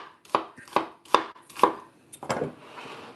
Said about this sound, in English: I am chopping up onion.